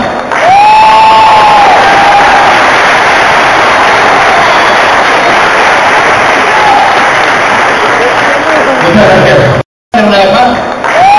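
A convention audience for a Simpsons voice actor's appearance at Animate Rosario 2010 cheers and applauds loudly and steadily, a dense crowd roar with whoops and shouts rising over it throughout.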